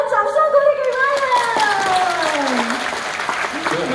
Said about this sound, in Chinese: 我们掌声鼓励给 Ryan